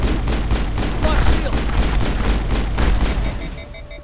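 Rapid bursts of gunfire from the Mass Effect video game, dense and continuous volleys up close, loud and sustained before tapering off near the end, with faint tonal game sounds emerging as the shooting thins.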